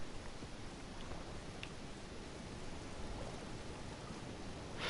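Heavy rain pours in the video game Elden Ring as a dense, even hiss of falling water that stays constant throughout, without any voices.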